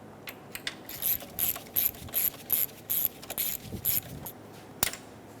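A ratchet wrench loosening the 12mm alternator cable nut on a 2003-2007 Honda Accord V6 3.0L, a series of about ten quick clicking ratchet strokes in an even rhythm, close and crisp, ending with a sharp metallic knock.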